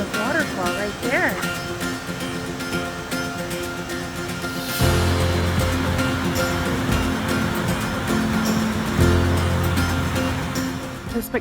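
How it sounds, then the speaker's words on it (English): Rushing water of Treasure Falls, a waterfall in the San Juan Mountains of southwest Colorado, makes a steady broadband roar that swells louder midway as it draws closer, with people talking over it early on. "There's the waterfall right there."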